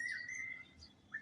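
Small birds chirp in the open on a breezy rooftop, a bright sustained whistle-like call followed after a pause by another brief high note, fairly clear against faint wind.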